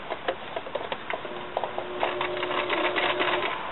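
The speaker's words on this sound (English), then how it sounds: "we're at the standard machine. And we're just going to do a straight stitch right around the inside of what we did with the serger." A standard sewing machine runs a straight stitch along serged fabric edges, giving a soft, fast mechanical ticking patter that stays close and steady and grows busier in the second half.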